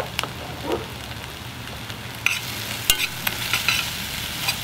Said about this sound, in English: we're gonna stir it until that sugar melts